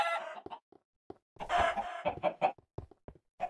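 Minecraft chickens cluck in short, uneven bursts, with a few louder squawks standing out. The birds sound close, and there is no talking.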